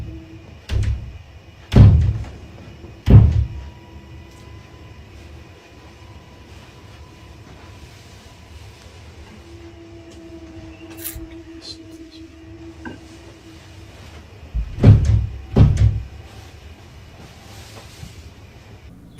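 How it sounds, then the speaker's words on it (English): A door banging in a house, heavy thuds coming in two clusters of two or three loud knocks each, separated by a long quiet stretch with faint background hum. "Can you hear it? It's this door."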